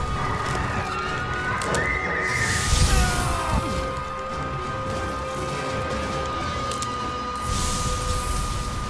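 A horse whinnies amid clopping hooves, crashes and whooshes in the video game Monster Hunter World: Iceborne, with a second neigh later; no talking is heard.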